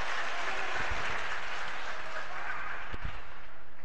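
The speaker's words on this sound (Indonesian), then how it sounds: "Sekarang saya suruh tepuk tangan. Saya aplaus dulu." Steady applause from an audience at a 2018 mayoral election debate in Bima, a dense wash of clapping at moderate volume that continues evenly throughout.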